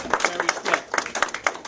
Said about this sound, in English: So we want to give those people a round of applause